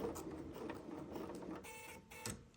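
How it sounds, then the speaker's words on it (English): A sewing machine fitted with an invisible zipper foot stitches at a steady, mechanical pace, its quiet, close whirring and tapping running through the clip with small shifts in speed. "I'm going to stitch."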